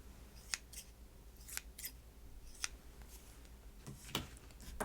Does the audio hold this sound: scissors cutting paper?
yes